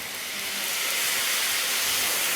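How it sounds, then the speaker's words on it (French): Cream hits a very hot frying pan holding lamb juices, releasing a loud, steady sizzling hiss that swells slightly over a couple of seconds with no talk. "Je vais déglacer ma poêle avec un peu de crème"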